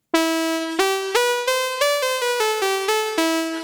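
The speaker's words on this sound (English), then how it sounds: "the original VCO sounds like this" AJHSynth MiniMOD synthesizer playing its original VCO tone, a bright buzzy harmonic-rich note that steps through a sequence of about ten evenly spaced pitches, each with a sharp attack and slight decay, loud and alone.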